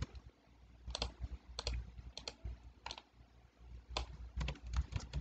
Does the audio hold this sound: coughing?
no